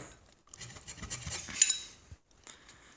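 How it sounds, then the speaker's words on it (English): A metal scraper grates against a part of a Honda Fourtrax 70 ATV under restoration, producing close, scratchy rasping strokes in two short bursts separated by a pause. "I'm going to see if we just can't scrape it off here. Scraping away from the entrance to this."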